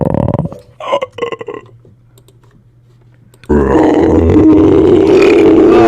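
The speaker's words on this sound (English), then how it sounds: "I burped." A single loud, drawn-out burp breaks in abruptly after a near-silent stretch, preceded by short grunting and clicking sounds.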